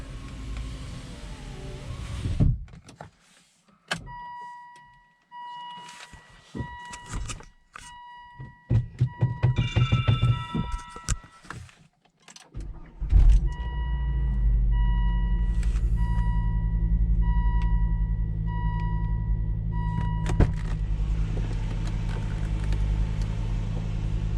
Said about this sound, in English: And does this car start up?